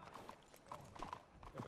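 A horse in a video game clip-clops in a few quick, faint hoofbeats, quiet and brief with a low background murmur.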